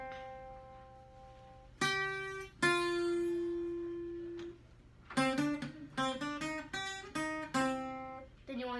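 Guitar playing the Brawl Stars lunar event theme, quiet clean plucked notes in a short melodic phrase, a couple of sustained tones followed by a quicker run of picked notes, close and played alone.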